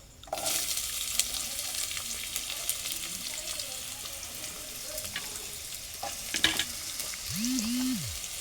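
Sliced onion goes into hot oil already crackling with curry leaves, giving a steady, close, bright sizzle throughout, with a few clinks partway and a short tonal whine near the end; no talking.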